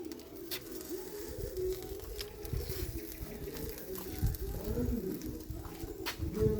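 Pigeon or dove cooing in low, repeated phrases, fairly steady throughout amid some background noise and faint voices.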